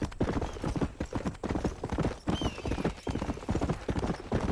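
Horse hooves clip-clop in a steady, rhythmic gait during a long ride in Red Dead Redemption 2, close and fairly loud, with faint game ambience underneath.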